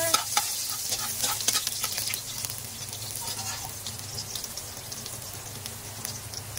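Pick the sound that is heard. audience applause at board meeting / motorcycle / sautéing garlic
sautéing garlic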